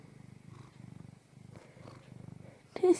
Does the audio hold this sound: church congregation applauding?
no